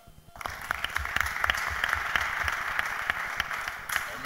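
A church congregation at a Bible study breaks into applause, many hands clapping in a full, sustained wash that swells quickly and carries on to the end.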